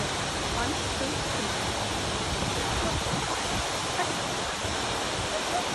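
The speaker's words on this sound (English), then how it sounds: "The waterfall looks so beautiful." Waterfall at Bumla Pass in Arunachal Pradesh, a dense, continuous roar of falling water filling the scene, steady and loud throughout.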